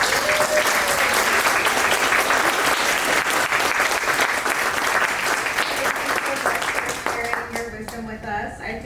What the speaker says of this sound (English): I want to give a round of applause to our panelists